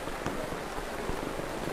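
Rain falling steadily outdoors during a Buddhist ordination ceremony in a Thai valley, a dense, even hiss with scattered close drops tapping on surfaces, no voices over it.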